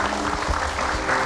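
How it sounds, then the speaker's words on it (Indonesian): Studio audience applause greeting Ustadz Danu as he arrives on an Indonesian TV show, a steady wash of clapping filling the short moment with no talk over it. "boleh berikan tepuk tangan untuk Ustadz Danu"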